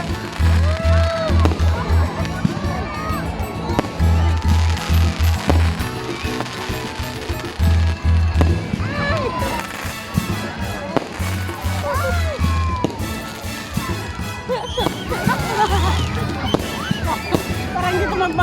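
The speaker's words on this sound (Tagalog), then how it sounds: "Fireworks na! Alas 8 na!" Fireworks burst at a town festival in a Philippine province, popping and crackling repeatedly amid a noisy, excited crowd, with people talking and shouting close by throughout.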